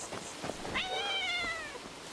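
A cat meows in the video game Where Winds Meet, a single drawn-out, wavering meow near and clear, preceded by a couple of short softer mews over faint ambient background.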